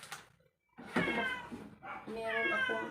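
A house cat meows in several drawn-out, harmonic calls indoors, close and fairly loud, with a person talking around and between the cries.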